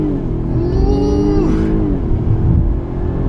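A 2016 Jaguar XF 35t R-Sport with a supercharged engine, rear-wheel drive and sport mode engaged, pulls away from a standstill. The engine note rises steadily and loudly through the gears, with a rolling rumble underneath.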